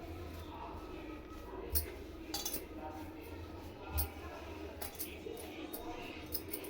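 A metal spoon mixes semolina batter in a bowl, giving faint scraping and a few soft clinks against the sides while a voice talks over it.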